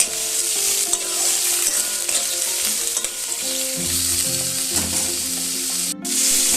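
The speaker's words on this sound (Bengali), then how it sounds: "ডুমুরগুলো দিয়ে দিচ্ছি। ভেজে নিচ্ছি।" Figs frying in hot oil give off a loud, continuous close sizzle, with occasional stirring scrapes and a brief dropout near the end; no talking.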